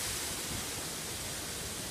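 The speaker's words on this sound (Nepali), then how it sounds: "यो हो भिक्टोरिया फल्स," Victoria Falls roaring, a dense unbroken wall of close, loud rushing water that stays even from start to finish.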